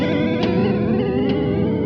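Heavily modulated guitar through an Eventide Rose delay pedal with modulation depth at maximum, a dense, wobbling wash of sustained repeats that stays loud and steady throughout with no voice.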